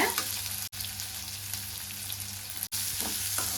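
Sliced onions sautéing in a pan with turmeric powder for potato masala, a steady close sizzle broken by two brief dropouts.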